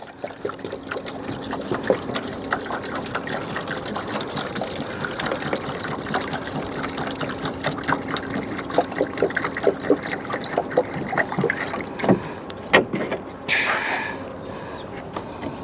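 Water pours steadily into a container in a loud, continuous splashing stream that briefly shifts and gurgles near the end.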